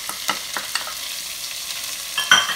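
Red onion and carrots sizzle in a pan while being stirred, a steady soft frying hiss with light scraping clicks of the spoon, close and with no talking.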